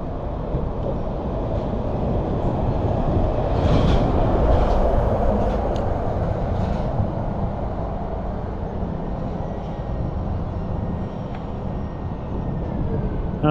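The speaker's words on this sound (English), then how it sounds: "There's the loco. There's further locos up there waiting to go." A locomotive at Southampton dock rumbles as a steady, broad low roar that fills the whole stretch at constant loudness, with faint higher squeals and hiss drifting over it and no talk.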